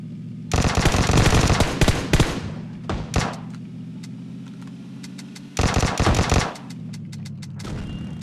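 Automatic gunfire in the PUBG Mobile video game, loud rapid bursts followed by a second burst after a short gap, over a steady low game background hum.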